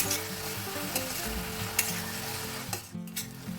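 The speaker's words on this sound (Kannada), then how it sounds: "ಗ್ಯಾಸ್ನ ಮೀಡಿಯಂ ಫ್ಲೇಮ್ನಲ್ಲಿಟ್ಟು ಈರುಳ್ಳಿನ ಚೆನ್ನಾಗಿ ಫ್ರೈ ಮಾಡ್ಕೋಬೇಕು." Onions frying in a pan over a medium gas flame: a continuous, close sizzle with light stirring scrapes and small pops, steady throughout and with no voices.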